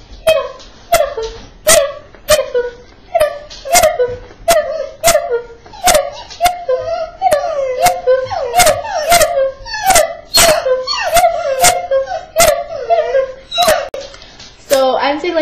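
A pet dog whimpers and yips close by in a rapid, excited series of high-pitched cries and sharp barks, with speech mixed in.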